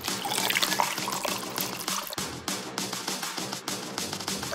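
Water poured steadily into a cup during a party challenge, a continuous bright splashing trickle with a few brief breaks, close and fairly loud, with no talk over it.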